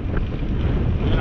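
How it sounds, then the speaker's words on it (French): Strong wind roars and buffets the microphone in a steady, loud, low rumble during a ride on a single-speed bike, with no breaks in the noise. "Vous pouvez l'entendre, il y a encore beaucoup de vent."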